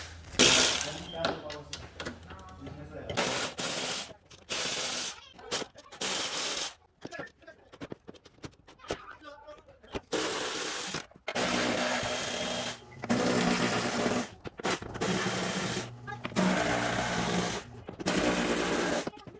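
Ratcheting bursts and metallic clinks come in repeated short runs as 10mm bolts are taken off a 2015 Toyota Sienna, with pauses between them and talk now and then.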